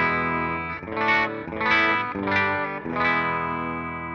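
Clean electric guitar through a PRS Standard 22 and a Dr. Z Maz 18 amp, a few sustained chords struck about every half second to second, rich and ringing with little breakup, loud and alone.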